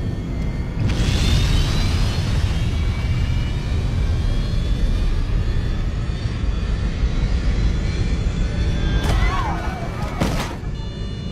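Airliner jet engines run at full power, a loud, steady, broad roar with a thin rising whine that fills the whole stretch, broken by a couple of sharp bursts near the end.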